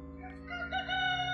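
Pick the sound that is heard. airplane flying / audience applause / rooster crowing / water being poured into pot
rooster crowing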